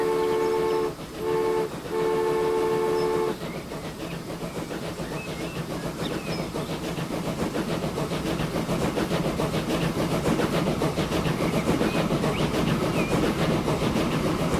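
Trains leaving stations and depots in the game Transport Fever 2: a couple of short horn toots open, then a steady, building rumble and clickety-clack of rolling wagons continues loudly, with no talking.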